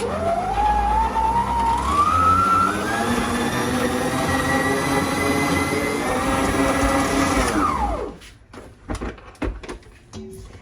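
An electric stand mixer kneading pumpkin bread dough with melted butter, its motor whining up in pitch and holding a loud steady hum for about eight seconds before winding down, followed by scattered knocks and handling sounds.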